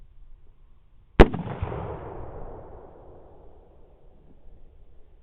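A single sharp gunshot aimed at a hog during a night thermal hunt, one loud crack followed by a long rolling echo that fades over several seconds in open country.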